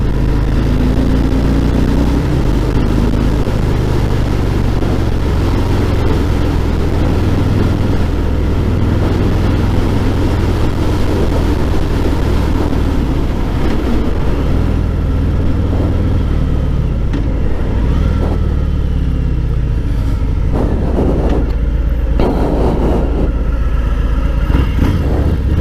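2018 Harley-Davidson Fat Boy 114 cruiser accelerating, its heavy low engine rumble loud and close under strong wind noise, building steadily through the run.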